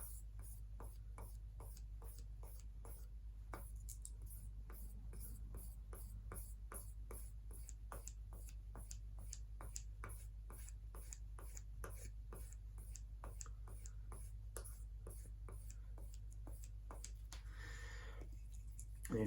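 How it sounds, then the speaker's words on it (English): A Bps Adventurer bushcraft belt knife is stroked against a leather strop in a steady series of soft, evenly spaced swipes, close and quiet over a constant low hum, with no talking. "I just finish up with the strop, and I kind of do the strop the same way. I just bring the strop to the knife."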